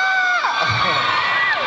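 A concert crowd screams and cheers loudly and continuously, with high-pitched whoops and shouts sliding up and down across the whole stretch.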